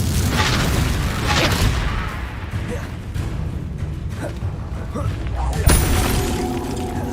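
Spell blasts in Hogwarts Legacy, heavy booming impacts and crashing debris over rumbling game noise, with a sharp crack near the end, and voices shouting over it.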